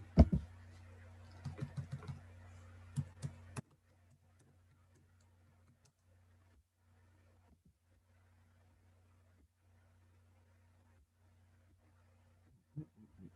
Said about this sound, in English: Let's just make sure I'm typing the right thing.